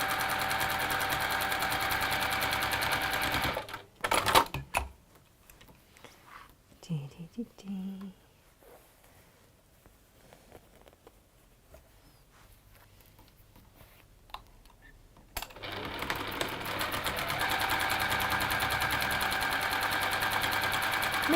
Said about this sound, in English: you want to try and be as accurate as you can in sewing on that seam